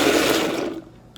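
A blender whirs loudly as it purees mango for homemade popsicles, a dense grinding roar that eases off and drops away near the end.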